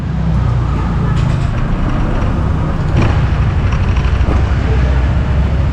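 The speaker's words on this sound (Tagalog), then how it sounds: "Yan guys, maandar na siya. Ayan, yung RPM niya mapalo na." A Honda ADV 160 scooter engine running at a steady idle, a continuous low rumble close by with some background road noise, and a brief rev swell midway.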